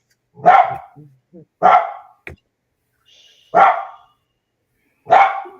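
A dog barks four times in a loud, close series of sharp, separate barks with short silences between them, plus a faint click between the second and third barks.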